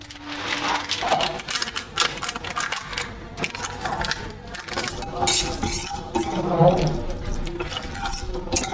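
Pasta and taste maker seasoning cooking together in water in a pot, with busy clatter of a utensil stirring and knocking against the cookware, close and continuous.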